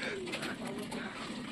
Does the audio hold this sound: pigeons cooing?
yes